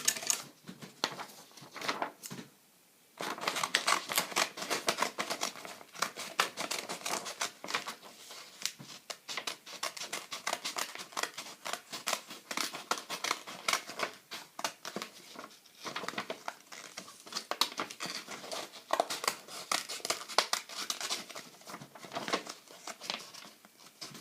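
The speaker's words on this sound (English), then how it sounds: "Now I'm going to cut it up with some scissors." Scissors snip through paper to cut out a snowman shape, a long run of close, irregular crisp snips and rustles with brief pauses between bursts.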